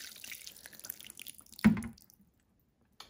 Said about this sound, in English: take my watering can and give it a little water